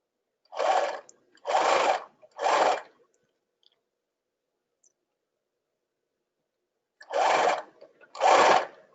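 Sewing machine stitching tutu fabric, running in five separate bursts: three quick runs close together, a long pause, then two more, each a loud, even mechanical whir with no talking.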